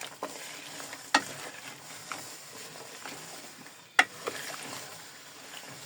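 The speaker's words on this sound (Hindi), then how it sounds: "गुड़ को अपने वक्फे से हिलाते रहना" Jaggery syrup being stirred in a pan, heard as soft scraping and swishing strokes with two sharper utensil knocks against the pan amid a faint, low bubbling background.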